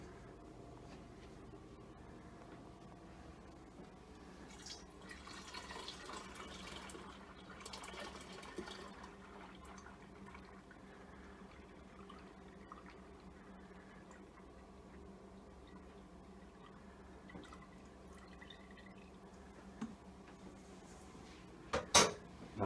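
Water runs steadily into a home-brew beer kettle while making a winter ale, a low continuous fill and splash with a few brief clinks near the end and no talking.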